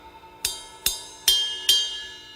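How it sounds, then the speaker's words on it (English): Four bright, bell-like pings struck on a ride cymbal's bell at an even pace, each ringing out briefly and clearly with no other sound around them. "The ride cymbal also has a bell"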